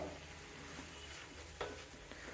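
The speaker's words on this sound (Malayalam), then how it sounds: "ഇനി സവാളയും പച്ചമുളകും നല്ല സോഫ്റ്റ് ആവുന്നവരെ ഒന്ന് കുക്ക് ചെയ്യണം." Onions and green chilies frying in a pan for a creamy butter malai prawns dish: a soft, steady sizzle with occasional spatula scrapes and taps, fairly quiet and close, with no talking.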